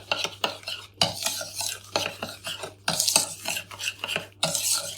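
Oil and sugar being stirred together in a bowl for a gluten-free lemon polenta cake, a steady run of close scraping and clinking strokes against the bowl, repeated rhythmically with no talking.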